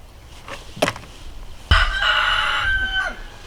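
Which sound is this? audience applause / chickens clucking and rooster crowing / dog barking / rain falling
chickens clucking and rooster crowing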